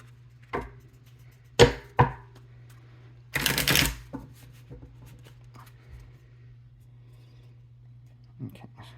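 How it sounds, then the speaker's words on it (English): A tarot card deck shuffled by hand, with a few sharp riffling bursts and soft card taps separated by quiet pauses, close and clear against a low background hum. "One more good shuffle."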